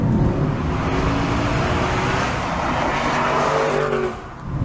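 A 2014 Aston Martin V8 Vantage N430 drives along, giving a loud, close, continuous engine and road roar that fades slightly near the end, with no talking.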